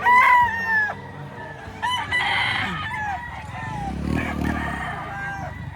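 A rooster crows nearby, a loud drawn-out call at the start, followed by more crowing and clucking with low background chatter.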